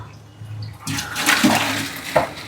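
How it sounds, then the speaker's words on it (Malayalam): Boiled water is tipped into a kitchen sink, starting as a low hum and then turning into a loud, rushing splash that swells and carries on to the end. "സിങ്കിലേക്ക് ഒഴിക്കാം"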